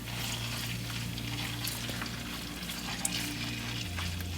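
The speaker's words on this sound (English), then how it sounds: "So let's add it in together and then fry it a little bit" Fish cakes sizzling in hot oil in a wok while cooking char koay teow rice noodles: a continuous crackling fry with a low steady hum beneath and a few brighter pops and spatters.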